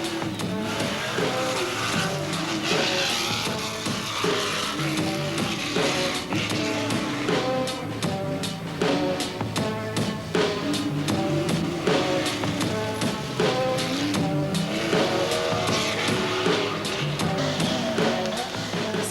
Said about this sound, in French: Bravo monsieur Sastre, arriver à dompter une telle machine en rallye, c'est pas facile